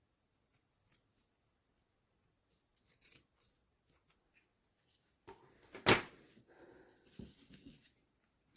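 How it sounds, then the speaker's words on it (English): Scissors cutting ribbons on a slant at a quiet table: a few faint, scattered snips and rustles, then one louder close cut, with soft handling noises around it. "Take the 2 ribbons, just cut them on a slant."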